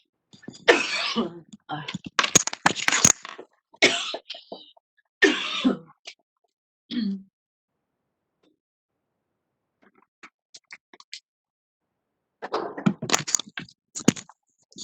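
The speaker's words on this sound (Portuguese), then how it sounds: "desculpa gente, deu uma crise de tosse aqui." A coughing fit from a woman during a live biology lesson: several harsh, close coughs in quick bursts, a pause, then another cluster of coughs, with a brief vocal utterance mixed in.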